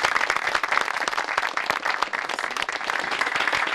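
Dense, sustained applause from a large audience at a Kinshasa choral event, loud and even throughout with no gaps.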